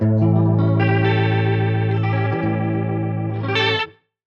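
Electric guitar played through a Vox Cambridge 50 modelling amp, a warm, thick chorus-laden tone with sustained chords ringing steadily for about four seconds before a brighter strum and quick cutoff.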